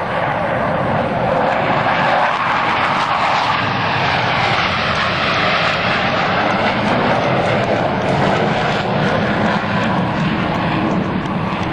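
US Navy Blue Angels jets roar overhead at the 2003 New York International Airshow, a loud, steady, broadband engine rumble sustained throughout as the team flies a formation maneuver.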